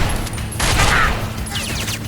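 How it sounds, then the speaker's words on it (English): Gunfire in the video game The Darkness: a dense burst of shots and impacts rolls through the middle, with sharper cracks toward the end over a steady game background hum. "Probably the sound of all the gunfire tipped him off somehow."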